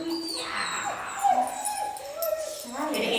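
A shy puppy whimpers in thin, wavering whines indoors, the soft cries coming and going beneath people talking close by.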